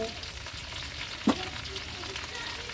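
Butter sizzles and bubbles in a large soup pot with onions, a soft, steady crackle close by, with one brief clink partway through.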